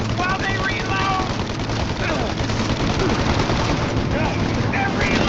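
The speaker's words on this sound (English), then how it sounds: "Shoot out their guns when there's a break in the fire!" Enemy gunfire roars steadily in the video game Mafia Definitive Edition, a continuous loud barrage of machine-gun bursts mixed with shouted voices throughout.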